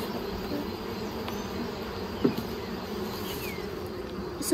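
Honey bees buzz around an open new hive during an inspection, a steady close hum with a brief knock midway and no talking.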